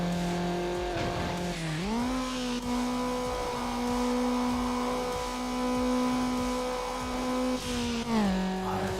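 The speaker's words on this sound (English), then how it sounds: "The sound of the Miata is so nice too." A Mazda Miata's engine in Need for Speed Underground rises and falls through gear changes, holding a steady drone between shifts, with tire squeal mixed in and no talking.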